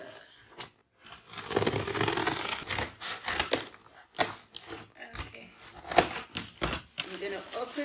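Scissors slice through packing tape and a cardboard box holding an LED mirror alarm clock is pulled open, giving close crinkling, tearing and scraping bursts with pauses between them.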